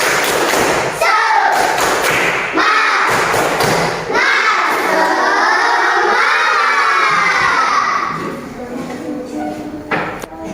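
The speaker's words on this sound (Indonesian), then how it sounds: "Coba kalian tepuk semangat." Students in a classroom perform a rhythmic clapping chant, with loud bursts of claps and a group of young voices shouting along, fading toward the end.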